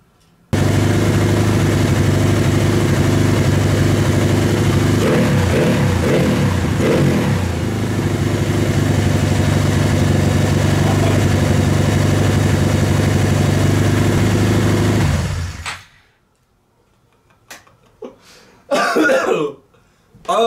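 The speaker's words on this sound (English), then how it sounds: "Wow, it is still idling incredibly high. But at least it's running!" A Honda Grom motorcycle engine runs at a high idle for about fifteen seconds, a loud, close, steady putter with a few uneven surges before it shuts off, followed by faint handling noises.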